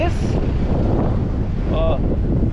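Strong wind buffeting the microphone at a harbour in Bridgetown, Barbados, a loud continuous roar with faint voices and a brief tonal squeal partly buried beneath it.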